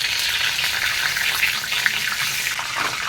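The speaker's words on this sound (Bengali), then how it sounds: "তো আমি এখন দিয়ে দেব ওই তেলের মধ্যে তেজপাতা" Bay leaves dropped into hot oil in a pan sizzle and crackle steadily, a bright continuous frying hiss with small pops, close and loud with no talking.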